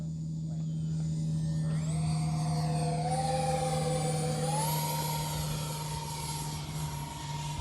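An X-Fly Su-57 RC model jet flies overhead with a loud, continuous whine whose pitch rises in steps as it speeds up, over a low steady hum.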